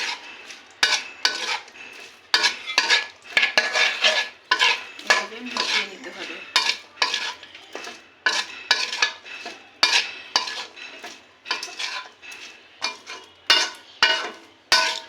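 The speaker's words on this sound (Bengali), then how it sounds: "যতটুকু প্রয়োজন হবে আমার এই শিরাতে ততটুকু আমি দেব এইভাবে ভালোভাবে নাড়াচাড়া করে এটাকে মিশিয়ে নিতে হবে" A spoon working popcorn through sticky sugar syrup in a pan, giving rhythmic rustling, scraping strokes with crunchy clatter, loud and close in a regular stirring pattern with brief pauses.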